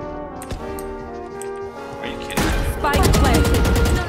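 Bursts of rapid gunfire in a shooter video game, loud and close, starting partway through and continuing in dense volleys after a stretch of quieter game sounds.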